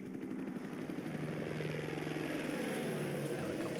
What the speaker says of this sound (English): Helicopter again, kicking up all the stuff.